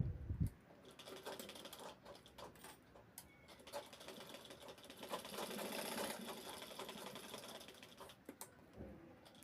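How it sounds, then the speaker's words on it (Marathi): A sewing machine runs a side seam through fabric, a fast rattling needle chatter, fairly quiet and steady, pausing briefly near the start and stopping toward the end. "त्याला साईडने अजून एक शिलाई घेत आहे"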